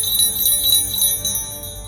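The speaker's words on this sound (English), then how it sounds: "the bell still rings for me" A high, shimmering bell rings steadily for about two seconds, its bright overtones sustained and layered with a soft low rumble underneath.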